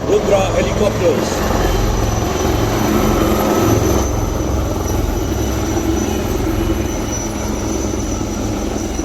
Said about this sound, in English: Rudra helicopters.